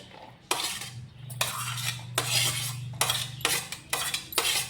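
Pieces of onion dropped by hand into a small bowl while making radish kosambari, giving several distinct clinks and clatters against the bowl at irregular intervals, close and fairly quiet, with a low hum underneath and no talking.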